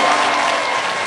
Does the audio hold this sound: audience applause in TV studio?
yes